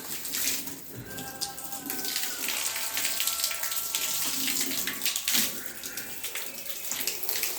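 Water spraying steadily onto stairs during cleaning, a continuous splashing hiss that runs near and fairly loud throughout.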